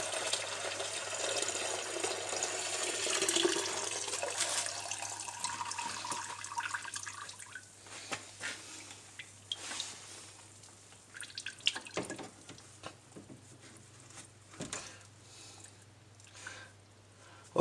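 Windshield washer fluid on a 1998 Dodge Grand Caravan draining from the pump opening into a jug, a faint hissing pour that tapers into scattered drips, quiet and close.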